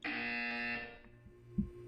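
A Portal 2 video game buzzer sounds alone, one steady harsh tone lasting under a second, followed by a quiet hum and a soft thud.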